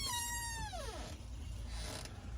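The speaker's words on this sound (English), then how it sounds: "And cats." A house cat lets out one long, loud, drawn-out meow that slides downward in pitch, followed by a quieter, breathy tail over steady low indoor noise.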